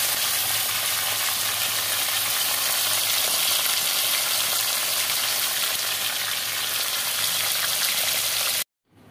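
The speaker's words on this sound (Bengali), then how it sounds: "মাছের মাথাগুলো আমি এভাবে ভেজে নামিয়ে নিয়েছি" Fish heads fry in hot oil with a loud, steady, dense sizzle that carries on without a break, then cuts off abruptly near the end.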